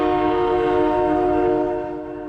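RTD commuter train horn blasting at a Park Hill crossing: a loud, sustained multi-tone chord held steadily, easing slightly in volume near the end, with no voices.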